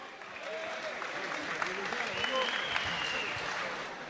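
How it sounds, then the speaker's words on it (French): A crowd applauds fighter Sidney Lisboa after his victory, a steady wash of clapping at moderate distance with cheering voices mixed through it. "On applaudit bien fort Sidney Lisboa"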